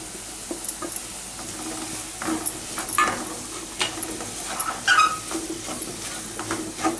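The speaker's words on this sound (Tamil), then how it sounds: "உருளைக்கிழங்கு வந்துட்டு எண்ணெயிலே நல்லா வெந்துருச்சு" Potatoes fry in oil with coriander, chili and turmeric powders, a close, continuous sizzle broken by repeated spoon stirs and scrapes, no talk.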